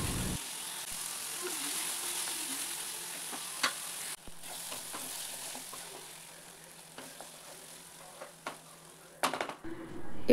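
Two tomatoes and a spoonful of turmeric frying in a pan for a vegetable curry, a steady soft sizzle with occasional scrapes and clinks of a stirring spoon.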